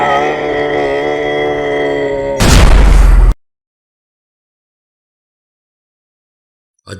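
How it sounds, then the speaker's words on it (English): An explosion in the video game Scrap Garden bursts in loudly after a sustained tonal musical passage, roars for about a second, then cuts to total silence. "A deafening explosion jolted the air"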